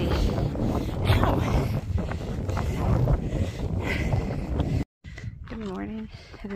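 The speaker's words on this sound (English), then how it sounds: "It's windy. It is windy." Strong wind in Joshua tree desert country on a long-distance trail buffets the microphone in heavy, uneven gusts, with people talking over it and a brief cut near the end.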